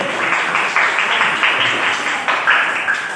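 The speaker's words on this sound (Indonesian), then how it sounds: "Kita berikan tepuk tangan untuk kelompok" A group of people claps steadily, a dense patter of hands that carries on throughout without pause.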